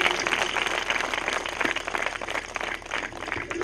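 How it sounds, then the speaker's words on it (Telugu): A crowd at a preaching event claps steadily and densely throughout, a continuous wash of applause at fairly even loudness. "కొట్టు చప్పట్లు గట్టిగా."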